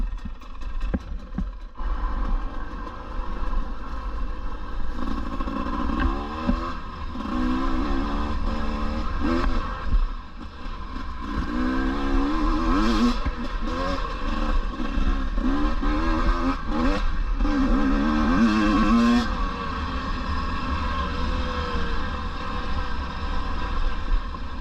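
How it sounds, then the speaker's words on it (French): A 2024 KTM 250 EXC two-stroke dirt bike pulls away after the clutch is let out, its engine rising and falling through several strong revving surges, loud and close, with a rough idle at the start and no talking. "La moto réagit bien, un petit coup d'embrayage, ça part."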